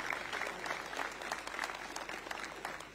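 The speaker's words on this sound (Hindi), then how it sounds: "मैं चाहूंगा कि उनके स्वागत में आप सब लोग ताली बजाकर उनका स्वागत करेंगे" An audience claps to welcome a guest at the inauguration of Agroha Dham in Chhattisgarh: sustained, even applause from a large crowd heard at a moderate distance, steady throughout without voices.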